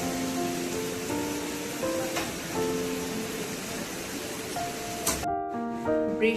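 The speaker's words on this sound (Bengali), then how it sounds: "বিশাল বৃষ্টি শুরু হয়েছে।" Heavy rain pours steadily at night in the hills, a dense continuous hiss throughout, while musical tones play faintly under it.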